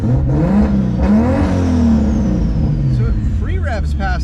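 A Lexus IS300 fitted with a 1.5JZ engine free revs in a garage, the engine note climbing and falling loudly up close in a couple of rising sweeps, with someone talking over it.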